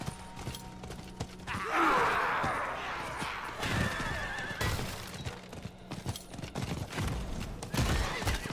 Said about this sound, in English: My horse is getting tired.